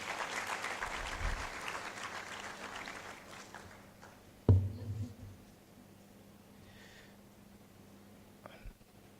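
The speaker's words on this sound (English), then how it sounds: "Let's give all the head of departments another round of applause." Applause for heads of departments at a civic gathering, a crowd clapping that fades out over several seconds, followed by a sharp thud and quiet room noise.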